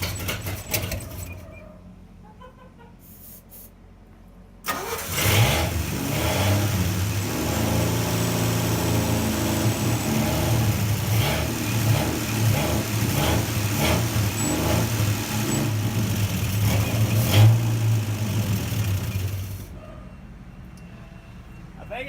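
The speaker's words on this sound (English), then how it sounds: "and got the truck to run" A 1964 Dodge D100 pickup's old engine, revived after a carburetor cleanout, fires up and runs roughly with repeated revs over a steady idle, loud and close, with people talking over it.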